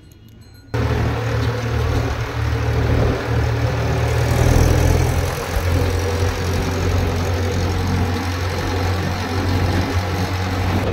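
Mahindra 475 tractor fitted with cage wheels, its diesel engine starting up and then running steadily at a loud, close, low rumble that swells slightly in the middle.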